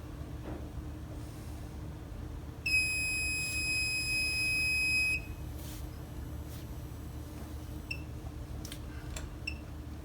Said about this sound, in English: you will trigger an alarm.